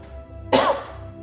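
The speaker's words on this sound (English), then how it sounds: "I'm so sorry about my cough." A single sharp cough bursts out close by after a brief quiet moment, followed by a low hum.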